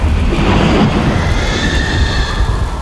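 In an audio drama adapted from a Gothic tale, a loud thunder effect rolls in with a deep rumble that swells early and slowly fades over a few seconds, with no talk over it.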